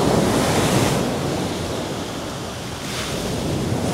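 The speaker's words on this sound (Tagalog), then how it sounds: "ang lakas ng alon" Strong ocean surf rolls onto the sand at Indira Beach in Botolan, Zambales, a loud continuous wash with two swelling breaks and steady wind buffeting the microphone.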